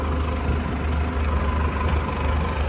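A KATA KE504 tractor, fitted with a starting pre-heater, runs at a steady idle with an even, loud low rumble close by and no voices.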